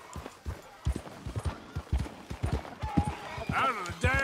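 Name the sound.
horse galloping hooves in video game Red Dead Redemption 2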